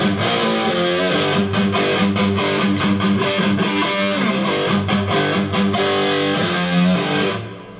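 Electric guitar played through a mild drive pedal stacked with a well-worn Crowther Hotcake overdrive, with reverb from the amp head: loud, distorted chords strummed in a steady rhythm, ringing out and fading at the end.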